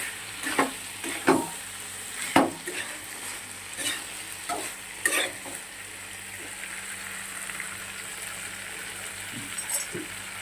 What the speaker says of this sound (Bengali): আর একটু কষাতে হবে। কষাটা এত ডিস্টার্ব করছে, খালি সরে সরে যাচ্ছে।